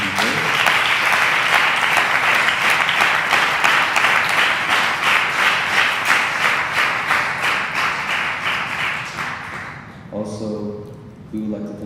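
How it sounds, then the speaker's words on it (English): An audience at an Eshwaramma Day celebration at a Sri Sathya Sai Centre applauds students with loud, sustained clapping that fills the room, then fades as a speaker resumes talking. "let's give a round of applause for the good students"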